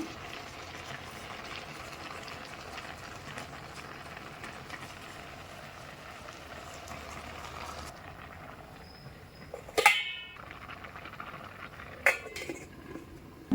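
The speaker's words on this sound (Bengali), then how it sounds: "ভাত বলক উঠে গেছে" Rice bubbling at a boil in a pot on a gas stove, a steady hissing wash for several seconds, then a few sharp metallic clinks and clatters of utensils close by.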